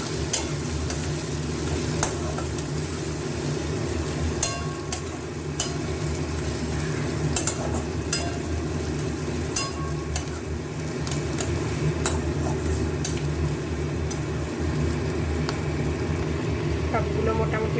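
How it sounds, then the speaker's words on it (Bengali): Coriander-cumin powder, turmeric and Kashmiri chili powder fry in a pan with a steady, continuous sizzle and occasional stirring scrapes, close and even throughout. "সবগুলো একসঙ্গে একটু ভাজা ভাজা হোক।"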